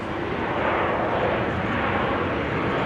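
Airliner landing at Amsterdam Schiphol with thrust reversers deployed, a broad, loud, steady roar that holds without letup, heard from a distance outdoors.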